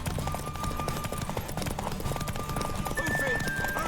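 Horse hooves clip-clop steadily in The Witcher 3, with a horse whinnying partway through, all under ongoing talk and game music.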